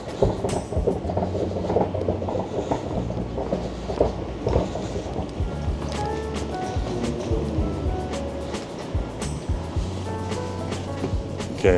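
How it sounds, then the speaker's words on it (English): A SkyTrain pulls into a station in Vancouver with a loud, steady rumble and rolling roar, bright squeals and clicks scattered over the continuous low drone for the whole stretch, no voices rising above it. "There's a train here. The train just got here."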